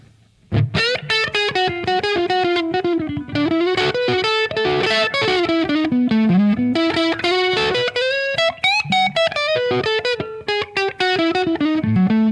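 Telecaster-style electric guitar with a Gibson-like tone and added reverb, strummed and picked in a busy, continuous run of chords and single notes, loud and close with no talking.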